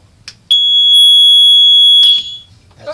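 A boat's high-water bilge pump alarm, switched on for a manual test, lets out one loud, piercing electronic tone that holds steadily for about a second and a half, then cuts off abruptly.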